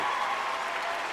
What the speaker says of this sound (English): Let's go ahead and give her a round of applause on that one